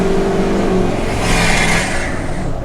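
A diesel truck's engine roars loud and near as it accelerates hard to get around a slow car, with the drone climbing steadily and no voices over it.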